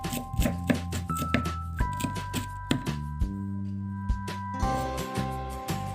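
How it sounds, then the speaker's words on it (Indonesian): Shallots are chopped finely with a knife on a cutting board, making a run of quick, crisp taps in an uneven rhythm over soft background music. "Untuk sisa bawang merahnya ini, saya cincang-cincang atau potong kecil-kecil."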